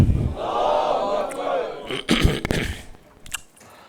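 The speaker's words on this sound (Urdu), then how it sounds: "نعرہ تکبیر" A congregation at a Muharram gathering in Brooklyn shouts a takbir chant in unison as one loud, swelling collective roar, followed by a few scattered louder bursts and a quieter tail.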